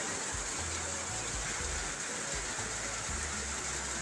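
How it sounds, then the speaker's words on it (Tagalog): Steady, dense rainfall with a constant hiss and low rumble, unbroken throughout and fairly loud. "Lakas ng ulan."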